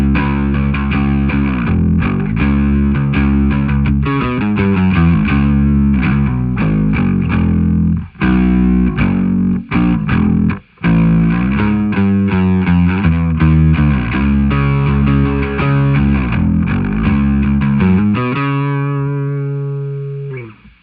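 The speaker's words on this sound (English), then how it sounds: "Here's what it sounds like with my Dark Glass distortion pedal on." Rock bass guitar played through a Dark Glass distortion pedal, a loud, gritty riff of chugging repeated notes with brief gaps, ending on a held, ringing note that fades out, with no talking.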